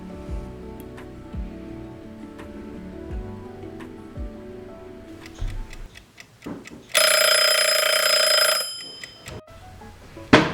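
A cute little kitchen timer, ticking faintly at first, then a loud, sustained bright ringing alarm bursting in for about two seconds near the end amid kitchen clatter, close and without talk.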